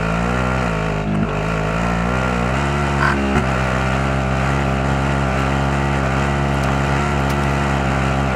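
A steady, loud engine drone from a vehicle driven in Call of Duty: Modern Warfare, with a constant tone that rises slightly as it accelerates, close and continuous.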